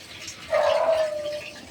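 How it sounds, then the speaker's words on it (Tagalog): A single drawn-out dog yelp or whine rises and trails off over a second, fairly close, against a quiet background with faint watery noise. "Ay, may aso."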